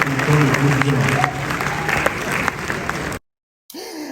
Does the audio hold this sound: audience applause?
yes